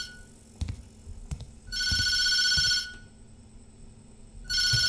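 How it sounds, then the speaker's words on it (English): A telephone rings in the horror video game Tattletail, with two long electronic ring bursts separated by a pause and a few dull thuds and clicks in between, close and fairly loud. "I'm gonna see what happens when I answer the phone."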